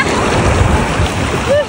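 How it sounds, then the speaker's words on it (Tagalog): Strong sea waves wash and churn at the beach in a short, loud burst of surf and spray, with wind buffeting the microphone. "Malakas din kasi talaga yung alon dito"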